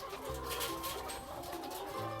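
A hen, mother to chicks, clucks close by over a dense, continuous backdrop of farmyard noise.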